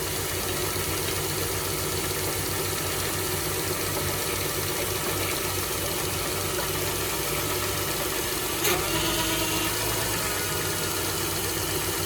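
The engine of a 1999 Toyota Sienna runs at a steady, even idle with a continuous mid-pitched hum and rattle, close by and unchanging, with one brief knock partway through and no voices.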